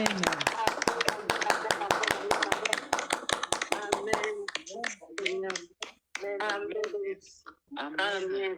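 A church congregation applauds with rapid, sharp claps for about four seconds, then gives way to voices speaking and calling out.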